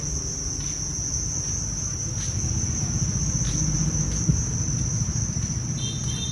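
Crickets on a cricket farm fill the scene with a steady, dense high-pitched chirring that runs unbroken throughout, over a low background hum, with no talking.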